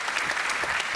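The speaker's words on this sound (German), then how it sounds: "Sie bekommen nochmal einen Applaus" Audience applause at a science talk event, a brief, dense burst of clapping from a crowd, steady and fairly close.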